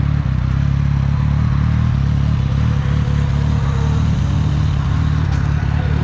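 Motorcycles including a Ducati V4 S, a Yamaha MT-07 and a restored carbureted bike rolling together on a highway, producing a steady, loud mid-pitched engine drone with clattery road rumble throughout and no talk.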